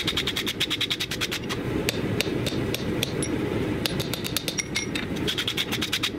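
A hammer strikes steadily on the bottom of bolt jaw tongs being forged, a rapid run of ringing metallic blows over a constant roaring forge or blower, nearby and loud, with a brief pause midway.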